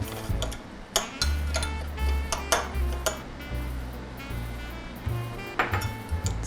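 Breadcrumbs being stirred into melted butter for a tuna noodle casserole, a spoon knocking and scraping against the pan in a steady rhythm of close, sharp ticks.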